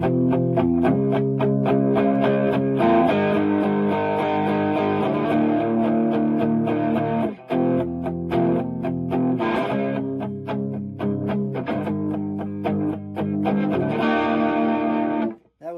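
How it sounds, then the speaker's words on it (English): A distorted electric guitar (GROTE LPYS-006 solid body, bridge pickup) plays chords and riffs, bright and gritty with a slight chorus shimmer, loud and continuous, ending abruptly. "This is what it sounds like with a little bit of distortion."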